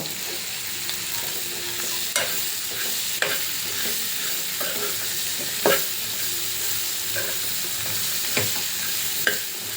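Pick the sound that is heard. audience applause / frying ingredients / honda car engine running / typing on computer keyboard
frying ingredients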